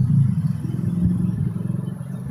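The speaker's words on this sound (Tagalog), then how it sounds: "Ang layo noon, ng tricycle." Distant tricycle motorcycle-taxi engine, a low putt-putting rumble droning steadily throughout.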